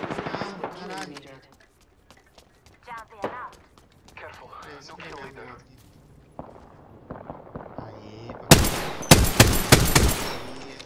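Gunfire in the video game Apex Legends, a sharp loud burst of rapid automatic shots near the end, after stretches of players talking over quieter game sounds.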